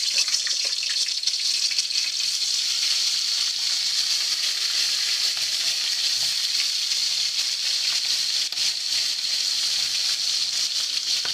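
Prawns sizzle and crackle in hot oil in a wok, a steady, dense frying hiss holding level for the whole stretch, close and fairly loud, with no voices.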